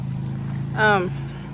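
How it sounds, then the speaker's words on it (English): A motorcycle passes by outdoors as a short engine whine that rises and fades within about a second over a low, steady background hum. "here comes a motorcycle"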